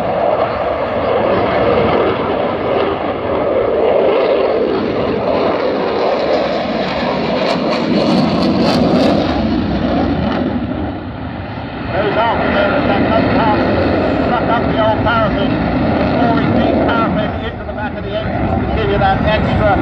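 A jet aircraft with afterburners roars at an air show on a cold day, a loud, steady, continuous thrust that swells and eases slightly, with someone talking over it throughout.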